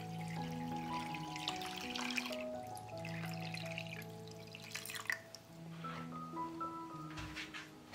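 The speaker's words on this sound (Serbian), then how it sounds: "Sipat ću vode u šerpu do visine poklopca." Water trickles and drips into a cooking pot lined with a cloth and holding glass jars set up for pasteurizing, soft and close, with background music.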